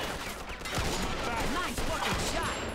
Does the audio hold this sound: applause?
no